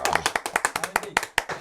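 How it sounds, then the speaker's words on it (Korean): A small audience at a Korean poets' and writers' talk event claps to welcome a new guest. The applause is brief, light and fairly regular, and it is heard close by. "박수."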